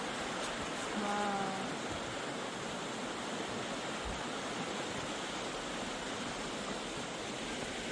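Creek beside an off-grid tiny cabin, water rushing in a steady broadband wash that holds even and constant throughout, with no voices over it.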